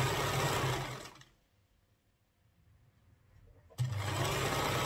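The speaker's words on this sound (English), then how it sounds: "So now I'm going to sew it and come down to the hem of it" A sewing machine runs in a loud, close, steady whir while stitching the hem of a fishtail skirt, stops for about two and a half seconds, then starts up again.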